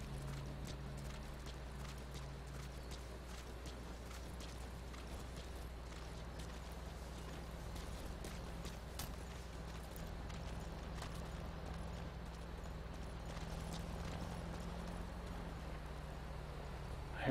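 Horse hooves in the video game Metal Gear Solid 5 clop steadily at moderate distance beneath a constant low rumble of game ambience, with faint scattered clicks and no voices.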